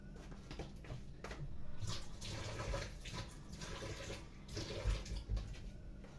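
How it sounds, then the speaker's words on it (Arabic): A small amount of water is poured into a baking tray of tilapia fish, potatoes and vegetables, a faint, close splashing trickle that swells and fades in short bursts. "هنجيب شويه ميه صغيره هنا"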